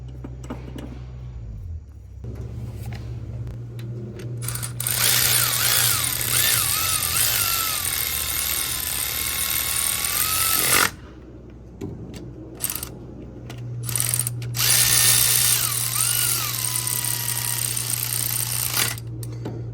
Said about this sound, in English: I'm just literally running the bolts in, and then we're going to go through a torque sequence.